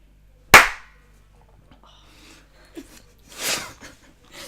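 One loud, sharp hand clap rings out close by, followed by quiet rustling, a soft breath and a burst of noisy exhaling or laughter.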